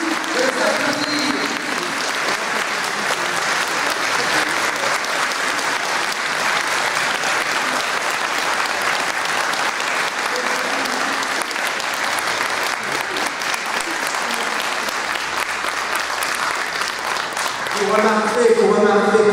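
Audience at a political rally bursts into sustained applause, a dense, steady wash of clapping that holds for the whole stretch and swells slightly near the end, with scattered voices mixed in.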